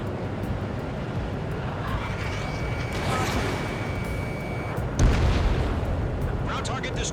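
Explosions rumble from a ground target being destroyed in the jet combat game Ace Combat 7: Skies Unknown, a dense roar of booms and aircraft noise with a heavier blast near the end.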